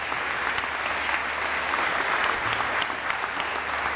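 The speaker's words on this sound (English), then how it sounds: "give her a big round of applause, because this would not happen without her." An audience at the Ivy Tech Cyber Academy graduation ceremony applauds in a steady, dense wash of clapping that holds evenly for the few seconds heard.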